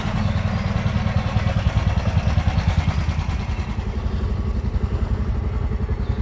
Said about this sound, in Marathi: जरा इंजिन गरम करण्यासाठी आम्ही त्याला थोडा वेळ चालू ठेवलेलं आहे